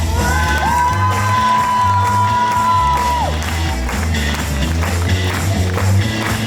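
A stage show audience cheers and applauds, with loud whoops, shouts and a long sustained yell rising over continuous clapping from a crowded hall.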